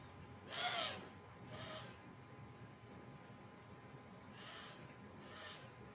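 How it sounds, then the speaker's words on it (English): Distant birds give short, harsh calls in two pairs, separated by a quiet stretch, faint over a low steady hum. "I think birds getting loud."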